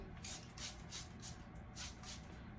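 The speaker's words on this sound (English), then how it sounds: "I'm going to spray it with some water" A spray bottle hisses water onto hair in a quick series of about seven short bursts, close and fairly quiet, in an even rhythm.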